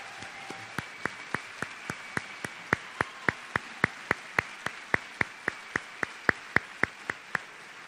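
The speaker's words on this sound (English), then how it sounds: "receive a round of applause for this tremendous honor" An auditorium audience at a high school honors convocation claps for standing honor society members, the claps landing in a steady, evenly spaced rhythm about three per second, crisp and moderately near, with no talk.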